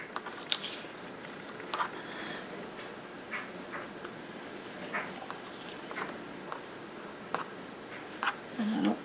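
Scissors cut an old lace curtain in half in a quiet room, with a series of soft, uneven snips and rustles of fabric being handled close by.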